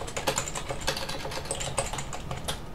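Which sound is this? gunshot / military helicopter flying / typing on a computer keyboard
typing on a computer keyboard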